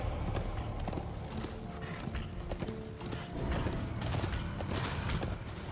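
A horse gallops in the video game Darksiders 2, its hooves clip-clopping in a fast, steady rhythm. The hoofbeats are loud and close, mixed with game mechanism noise and a brief whinny, and no one speaks.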